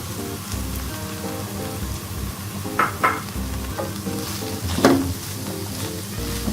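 Smashed potatoes being mixed in a frying pan for a veg Frankie roti filling, a steady close sizzle with scattered scraping stirs and a couple of louder spatula scrapes near the middle, no talk.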